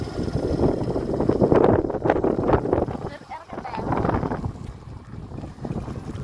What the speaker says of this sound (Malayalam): നല്ല കാറ്റുണ്ട് കേട്ടോ കാറ്റിന്റെ സൗണ്ട് ഒക്കെ ഇതിൽ കേൾക്കും